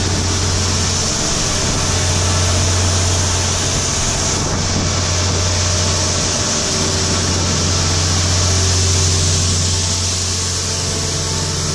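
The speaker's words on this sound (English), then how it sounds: "That's the new tractor." A new tractor engine running at a steady drone on an Iowa farm at harvest, a loud continuous low hum with no change in rhythm throughout.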